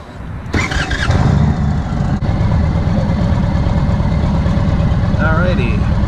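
Indian Roadmaster motorcycle idling and pulling out onto the road outside a truck dealership, a loud steady low engine rumble after a brief start-up burst, with a voice talking over part of it.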